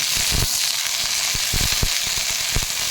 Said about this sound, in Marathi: भेंडी भाजत असतानाच